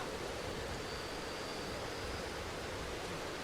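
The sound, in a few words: rain in video game Darkwood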